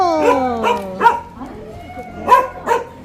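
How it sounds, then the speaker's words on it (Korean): Several small dogs bark and yip at close range in short bursts, with a whimpering whine between the barks, heard outdoors while a voice speaks faintly underneath. "어찌 강아지들이 사방에 이렇게 많을까?"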